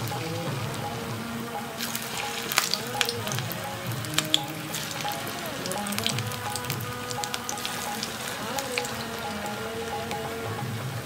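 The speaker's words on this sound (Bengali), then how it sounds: "আমি এখন ব্যাটার ছাড়া আর তিল ছাড়া এরকম কয়েকটি ভেজে নিচ্ছি জগন্নাথের জন্য।" Pieces without batter or sesame deep-fry in hot oil for a temple offering, giving a steady, crackling sizzle with small pops throughout.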